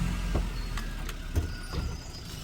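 A safari vehicle in Corbett National Park drives along a forest track, its engine rumbling low and steady with a few bumps and knocks, recorded from inside at moderate volume.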